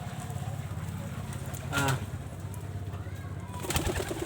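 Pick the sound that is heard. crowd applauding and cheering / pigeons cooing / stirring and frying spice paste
pigeons cooing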